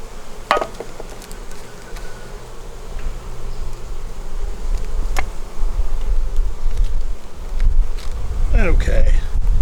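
Honey bees buzz around beehive frames in a dense, close hum with scattered louder passes of individual bees, while faint handling clicks sound over a low, rising rumble.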